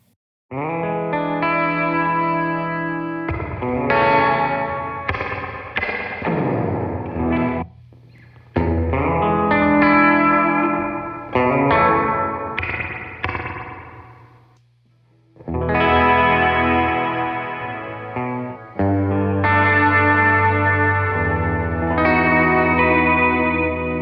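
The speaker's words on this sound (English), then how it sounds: "Now let's take a listen to the 3 different types of reverb" Electric guitar played through a Fender reverb pedal with three reverb types including plate, heard as loud chords and melodic phrases with lush decaying tails, changing between settings after brief pauses.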